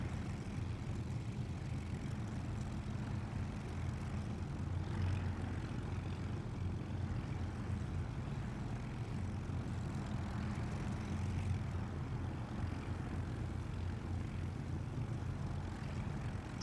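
Steady propeller airplane engine drone from War Thunder, a WWII-era aircraft in flight, holding a continuous low rumbling hum at even loudness throughout with no voices over it.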